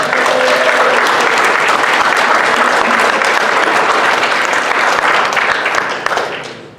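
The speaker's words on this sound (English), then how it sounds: "let's give them a round of applause" Sustained loud applause from a convention audience at a sci-fi and writing convention's opening ceremonies, a dense steady clapping crowd that carries evenly for several seconds before tapering off at the end.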